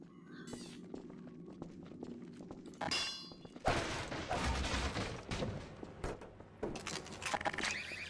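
Turret gunfire in the VR game Half-Life 2 VR: a harsh, sustained burst of rapid shots and metallic clatter erupts after quieter clanks and footsteps, then continues in loud bursts.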